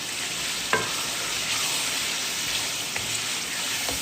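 Yogurt is stirred into khara masala gosht in a hot pan, a constant loud sizzle punctuated by a few sharp spoon scrapes against the metal. No voices are heard.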